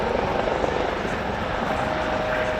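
A U.S. Coast Guard rescue helicopter at an air show demo gives a steady, loud rotor and engine roar with constant broadband noise.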